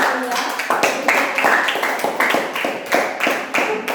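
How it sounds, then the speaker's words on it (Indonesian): A classroom of students claps hands together, a fairly close burst of uneven, overlapping claps with a few sharper individual hits standing out, lasting several seconds. "Sekali lagi kita berikan tepuk tangan ya."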